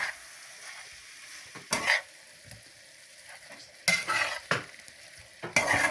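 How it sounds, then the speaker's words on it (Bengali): Boiled Maggi noodles are stirred into a hot pan, with soft sizzling broken by a few sharp bursts of utensil scraping and clatter, close by and with no voices. "এখন আমরা নুডলসগুলো ঢেলে সুন্দর করে মিক্সড করে দেব"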